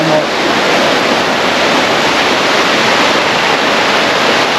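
Forest creek flowing past fallen tree debris, a loud, steady broadband rush of water that fills the whole scene without pause.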